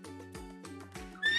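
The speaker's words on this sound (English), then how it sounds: "She neighed softly like she didn't want me to go either." A mare named Buttercup on a farm gives a soft, gentle neigh, a quavering whinny with a few breathy pulses, close by and unhurried, ending in a brief higher squeal.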